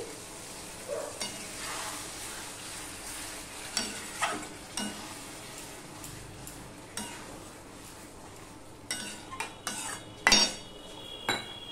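Chicken cooked down for a yogurt chicken curry is stirred in a pan after a splash of water, with a spoon scraping and clinking against the metal over a soft, continuous sizzle and no voices.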